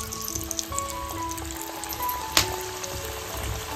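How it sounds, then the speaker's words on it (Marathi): Taro leaf fritters, aluvadi, frying in a pan of hot oil, a steady soft sizzle and crackle with faint bubbling, close up, with a few thin tonal hums and one sharp clink partway through. "याच्यामध्ये आता सर्व आपण अळूवड्या घालून घेतोय."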